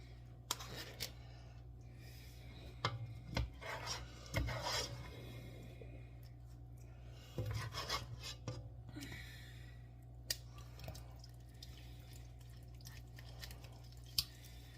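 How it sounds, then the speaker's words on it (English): Dried cherry tomato pulp gets crushed in a pan of slow-cooked pomodoro sauce, with intermittent scraping, rasping presses and soft clicks of a utensil against the pan, faint over a low steady hum. "with this I get to crush whatever's left of the cherry tomatoes, or the grape tomatoes in there"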